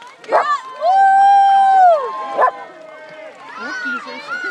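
A dog barks and yelps a few times at the waves amid cheering voices at a rowing regatta, with a long tonal whine or whistle in between and shouting crowd around.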